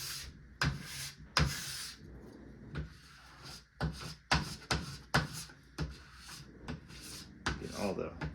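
A plastic scraper dragged along a ski base, peeling off wax in a series of rough scraping strokes at close range, with a voice talking quietly between passes.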